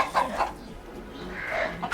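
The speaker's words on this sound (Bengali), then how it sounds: "ওরে মুরগি ডিম পেড়েছে" A chicken that has just laid an egg clucks close by in a few quick, uneven bursts.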